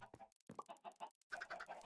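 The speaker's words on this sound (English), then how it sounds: "Wow, there are so many chickens, Fizz." Minecraft Bedrock chickens cluck in quick bursts, some short pauses between, then a denser flurry of clucks and squawks, fairly faint and close.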